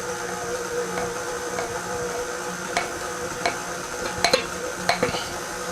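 Shredded sweet potato being stirred into cake batter in a bowl, soft wet mixing sounds with a few sharper scrapes and taps of the utensil against the bowl, over a steady low hum.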